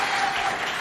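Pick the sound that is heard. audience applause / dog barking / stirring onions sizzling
audience applause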